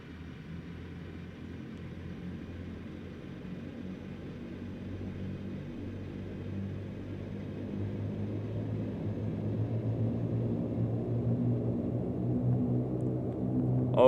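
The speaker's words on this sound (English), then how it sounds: "So we now need to put the engines up to max power," Twin turboprop engines of a Dash 8 Q400 in a flight simulator spool up to maximum power, a steady droning hum that grows louder over the span, alone without talk.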